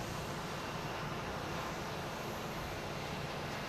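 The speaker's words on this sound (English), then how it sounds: "Looks like this American's trying to take off in the taxiway here. It's going so fast." An American Airlines jet accelerates down the taxiway for takeoff at Boston Logan, its engines producing a steady, broad roar that holds even throughout, with wind buffeting the microphone.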